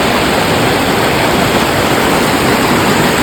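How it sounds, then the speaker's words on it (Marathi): Fast water rushing down a green hillside, a loud, dense, unbroken roar of white-noise-like flow, close and constant throughout with no voices. "हे बघा कसलं स्पीडने पाणी येते."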